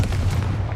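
A short, dense blast from the Confringo fire spell in Hogwarts Legacy, a loud low rumble with a crackling burst that fills the whole moment.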